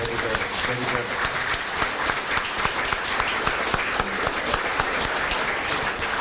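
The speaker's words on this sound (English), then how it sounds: "we'll give them a big round of applause" An audience at a high school winter sports banquet gives a big round of applause, steady dense clapping close by that fills the whole stretch, with faint voices mixed in.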